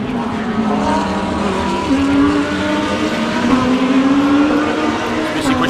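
Race cars lapping at Dezzi Raceway, loud engines holding a steady droning pitch that climbs gradually as they accelerate, with tyre noise and a continuous roar throughout.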